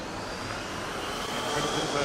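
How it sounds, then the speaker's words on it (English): A Formula Student race car from Pilsen passing during the endurance event at Formula Student Germany, giving a steady, dense rumbling engine roar that swells slightly as it goes by. "I heard a bit of a rumbling noise as car from Pilsen passed by"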